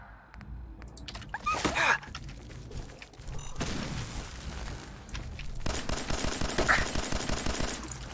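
Bursts of gunfire aimed at the player in the Fallout 4 video game, with rapid automatic volleys and heavy booms arriving in several clusters, moderately quiet overall.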